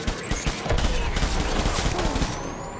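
Gunfire in the World War II battle sequence of Death Stranding on PS4 Pro, a dense continuous fusillade of overlapping shots and booms, loud and sustained.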